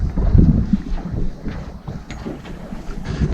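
Wind buffets the microphone in low rumbling gusts at an oyster farm, with a faint watery slosh beneath; no voices.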